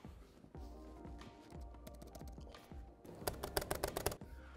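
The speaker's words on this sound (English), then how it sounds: "I'm trying to get a hear of this wonderful keyboard." Typing on the keyboard of a Razer Blade 18 gaming laptop: close, quick clicky keystrokes, sparse at first and then a dense flurry of taps near the end, with no voices.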